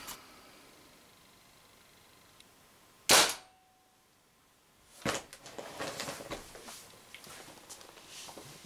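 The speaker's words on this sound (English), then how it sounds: "Let me try a shot at the bottom of the can." A Spyder MR6 paintball marker fires a Z-RAM slug at a can outdoors: one sharp, loud report standing alone against quiet hiss, followed a couple of seconds later by a softer impact burst and rattling.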